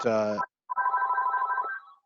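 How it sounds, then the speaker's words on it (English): A home landline telephone rings in short electronic trills during an online meeting, clear and close, right after a voice. "Sorry, that's my phone."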